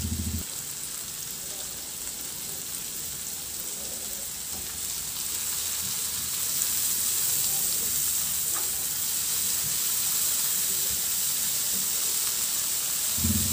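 Tomatoes sautéing in a pan for ginisang ampalaya, a Filipino bitter melon dish: a steady, close sizzle and hiss of frying with soft stirring, going on without a break and growing slightly louder partway through, with no talking.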